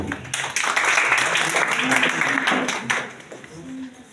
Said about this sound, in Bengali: হাততালি দিন